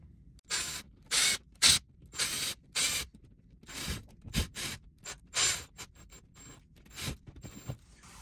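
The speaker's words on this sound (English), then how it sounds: "And now we can just tighten the screws up on the front of this." Screws are tightened on a loose towel bar's mounting bracket, with a series of short scraping, ratcheting turns in bursts separated by brief pauses, close and fairly loud.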